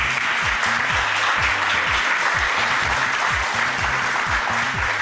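A TV talent show audience applauds loudly and steadily, dense clapping filling the whole stretch, with music playing underneath.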